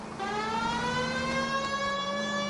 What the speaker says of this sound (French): Elle a la sirène de keuf par contre.